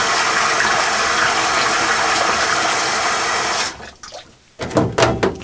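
Hot water gushes steadily into a home-brewing vessel onto wort, extract and sugar for a brown sugar lager, a loud continuous pour that stops near the end, followed by a few clinks and splashes.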